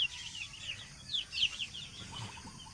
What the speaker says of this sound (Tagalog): Mga Rhode Island chicken po ito.